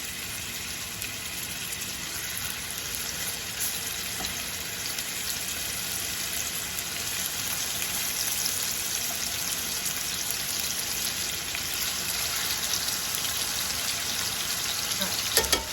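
Food sizzling and frying steadily in a hot skillet with avocado oil, a dense, continuous crackle that holds at an even level throughout, with a few faint clinks near the end.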